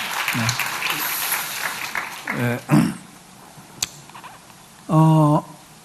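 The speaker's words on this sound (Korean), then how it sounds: "우리 박수로 한번 축하해 주시고요." A church congregation at a Sunday service claps briefly to congratulate a newly married member, a short burst of applause followed by people speaking, with a louder voice near the end.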